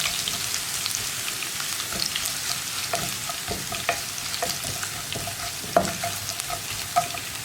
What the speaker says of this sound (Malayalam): ഇനി നമുക്കിതൊന്ന് ഇളക്കി ഇഞ്ചിയും വെളുത്തുള്ളിയും ഒന്ന് കുക്കായി വരുന്നത് വരെ ഇളക്കി കൊടുക്കാം.